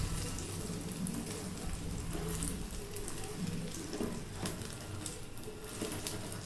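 Beaten eggs with salt and onion fry as an omelette in hot oil, giving a steady, close crackling sizzle with brief pops throughout.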